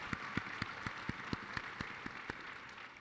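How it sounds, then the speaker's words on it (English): Audience at a charity changemakers event applauds a doctor: faint, distant clapping with a few sharp, regularly spaced claps standing out above a soft, even wash of hands from the crowd. "How about a round of applause for the doctor who delivered Preston,"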